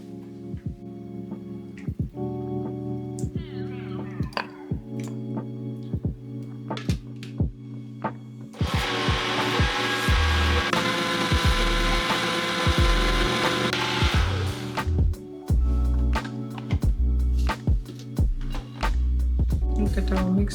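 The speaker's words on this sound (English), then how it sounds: "So we're going to pour our mixture in the blender." A blender roars for about six seconds, whirring a coconut and olive oil ice cream mixture loud and close, with clicks and knocks before and after.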